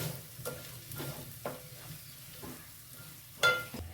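Onion and green chili sautéing with turmeric in a pan over a low flame for kanda poha, a soft sizzle under rhythmic spatula strokes with one sharper clank near the end.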